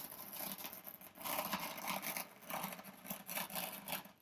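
A blade cuts into thick laminated foam made of three glued one-inch layers, giving soft rasping, tearing strokes in short bursts, close and fairly quiet, with no talking.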